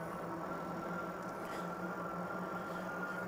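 A steady motor whine and road rumble from a Mukkpet Suburban fat tire electric bike ridden on throttle alone with no pedaling, constant and unbroken throughout with no voices.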